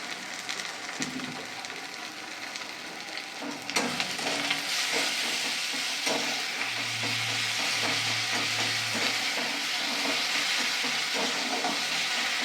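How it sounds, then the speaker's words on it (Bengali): Tomatoes frying in a pan with salt for a fish curry give off a steady, close sizzle with occasional stirring scrapes, continuous throughout with no voices. "টমেটোটাও ভাজতে থাকি।"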